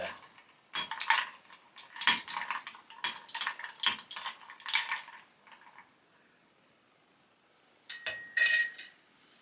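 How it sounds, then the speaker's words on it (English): Luster dust mixture stirred in a small container, quick light scraping and clinking taps in bursts, close up, pausing in silence before a final brisk flurry of stirring. "Let's just maybe give that a little stir."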